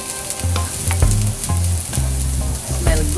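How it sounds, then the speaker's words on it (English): Garlic and onion sizzle in a hot pan, a steady close frying hiss broken by regular stirring scrapes and clinks, with no talking. "frying it for one more minute. The garlic jump on it."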